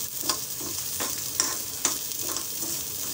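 Roasted lentils with tamarind and salt being stirred in a pan for a brichal dish, a spoon scraping in steady strokes roughly every half second over a soft background sizzle, with no talking.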